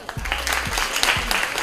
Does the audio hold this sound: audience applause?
yes